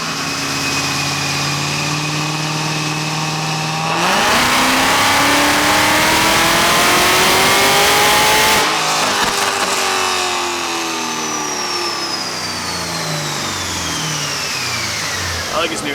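A Kong-supercharged 416 cubic inch Ford engine with LS9 heads and a mild cam, running on a dyno, holds a steady loud idle, then revs hard and rises in pitch, and falls away through gear-like steps as it winds down.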